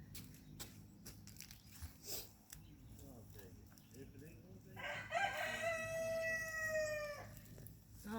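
Backyard chickens clucking and a rooster crowing loudly in a long drawn-out call midway, near the microphone, with a person's voice talking quietly through the first half.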